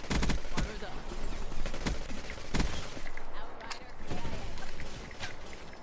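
PPSh submachine gun firing in Black Ops 3, with rapid bursts of automatic fire at a high rate, loud and close, broken by brief pauses and scattered battle noise.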